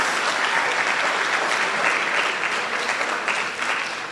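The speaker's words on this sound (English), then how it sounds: "Let's give him a round of applause." Sustained applause from a dinner audience at a community unity gala, a dense steady wash of many hands clapping at fairly even loudness, easing slightly toward the end.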